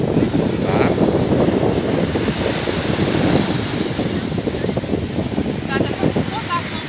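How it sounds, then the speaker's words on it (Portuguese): Strong wind buffets the microphone on a beach during carnival, a constant loud roar mixed with crashing surf, with people talking under the gusts. "tá muito vento"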